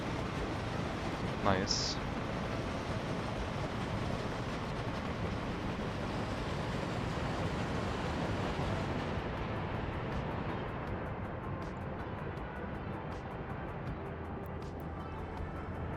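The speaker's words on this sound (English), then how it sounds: "There's our train, there's our shunting train coming back after coaling." Steam shunting train in a video game rolling back after coaling, a steady broad rumble with rail clatter throughout, a brief whistle-like tone early on, and a voice speaking briefly over it.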